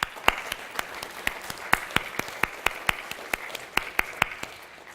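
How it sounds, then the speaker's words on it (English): Scattered, sparse handclaps from a small conference audience thanking a party sponsor, about a dozen and a half distinct claps over a few seconds, fairly quiet and slightly uneven, with no voices. "Let's give them another round of applause for that"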